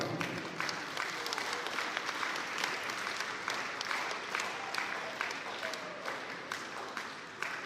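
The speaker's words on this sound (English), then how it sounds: "Let's get the clapping going." Steady, dense clapping from a crowd at a dairy cattle show, rolling on evenly for several seconds at a moderate distance with no voices over it.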